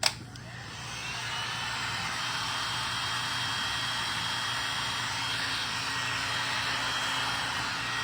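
A hair dryer blows steadily on coats of paint drying on a craft piece, a loud continuous whooshing roar that starts abruptly and holds level throughout, with no talking.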